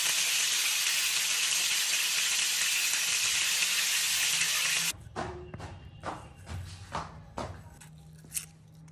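Silver carp fish frying in hot oil: a loud continuous sizzling hiss that cuts off abruptly midway, followed by a series of soft thumps and clatters in a quieter kitchen.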